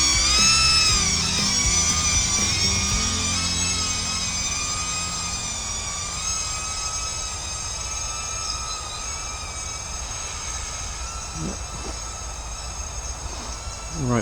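A small camera drone flying in woodland, giving a steady high-pitched whine with strong tonal harmonics that shift slightly as it moves, loud at first and gradually easing, with no talking.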